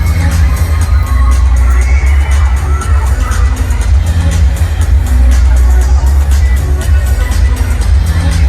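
A loud, dense arena crowd at a Dallas cheerleading competition cheers and shouts continuously for an all-star cheer team, with children's yells and excited babble mixed into the steady roar.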